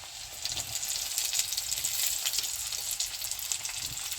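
Tomatoes go into onions frying in a pan in a village kitchen, producing a loud, continuous hissing sizzle with no voices.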